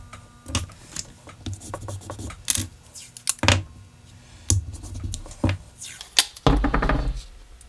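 Tape being pulled and pressed down to hold blocking in place on a Kydex holster mold for a Canik TP9 SFX: scattered sharp ripping and tapping bursts at irregular intervals, close and moderately loud.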